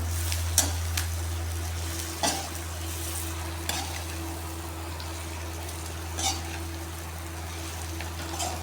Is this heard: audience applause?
no